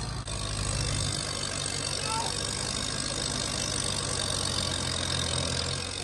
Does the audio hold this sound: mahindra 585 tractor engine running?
yes